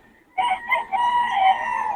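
A rooster crows loudly and close by after a moment of quiet, a few clucking notes leading into one long drawn-out call.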